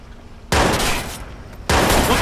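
Sustained bursts of gunfire from a Watch Dogs firefight, loud and close, cutting in abruptly, easing briefly, then resuming at full force.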